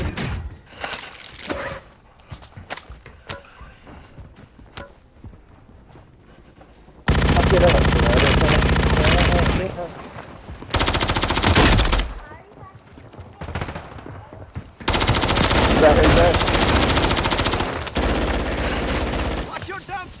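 Bursts of machine gun fire in a Call of Duty match, several loud sustained volleys with gaps between them, mixed with brief voices and game sounds in the quieter stretches.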